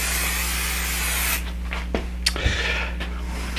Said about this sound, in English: give a light spray of the